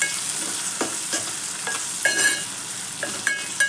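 Soaked soya chunks frying in a curry pan as they are stirred, a continuous sizzle with repeated clinks and scrapes of a spoon against the pan.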